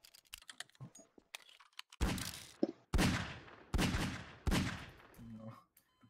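Gunshots from Garry's Mod: a few quiet clicks, then four loud, close, evenly spaced bangs, each with a short ringing tail.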